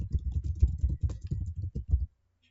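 Rapid typing on a computer keyboard during Excel data entry: a close, dense patter of key clicks lasts about two seconds, then stops abruptly.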